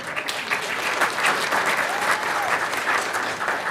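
A crowd claps steadily through the whole stretch, a dense continuous wash of applause at a moderate level with no speech over it.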